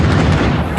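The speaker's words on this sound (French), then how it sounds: "Deuxième explosion au Stade de France." A deep, loud boom fills the moment, a single heavy blast outside the Stade de France, rumbling through the low end without any voices.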